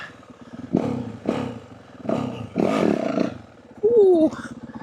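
A Yamaha WR450F dirt bike revs in loud, rhythmic bursts during a slow wheelie, several throttle blips rising and falling close to the rider, ending with a brief whistle-like tone.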